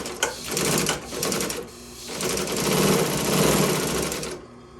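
A sewing machine runs in bursts as it top-stitches an upholstery test piece for a bench seat, the dense mechanical whir close and loud, with a short pause before a longer steady run.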